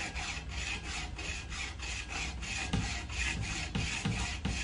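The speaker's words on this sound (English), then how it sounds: "But this hacksaw really just cuts through bone and antler so well" A hacksaw cuts through deer antler in steady back-and-forth strokes, a close, rhythmic rasping that continues throughout with no talking.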